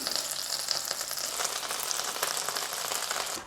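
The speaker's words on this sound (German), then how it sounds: "Und sobald die Butter aufhört zu brutzeln," Butter sizzles and browns in a hot pan while crêpes Suzette are made, a close, steady crackling hiss with fine spattering pops throughout and no talking.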